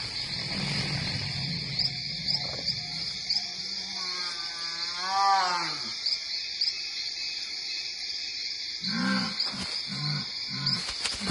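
A female big cat in the Amazon rainforest gives a hoarse, rasping call near the middle, then a few short grunting calls, over steady insect and frog chorus of the night forest.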